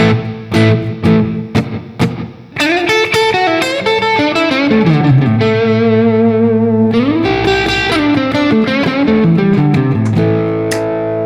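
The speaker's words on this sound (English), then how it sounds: "Classic sound of rock and roll blues, right? Slapback." Electric guitar through a slapback delay, with distortion and reverb, playing rockabilly-style blues licks; each note is followed by a quick single echo, sustained chords ringing loud and close.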